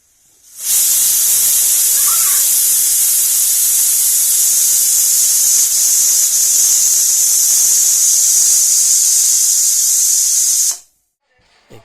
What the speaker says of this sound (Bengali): এইভাবে পাঁচ থেকে ছটা সিটি দিয়ে নেবে যাতে ছোলাগুলো সিদ্ধ হয়ে যায়